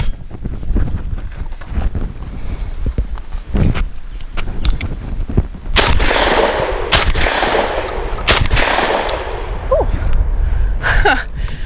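An SDS Lynx 12 semi-automatic 12-gauge shotgun fires Rio 8-shot, 1 1/8-ounce shells outdoors in several loud sharp blasts, with wind rumbling over the microphone and someone speaking.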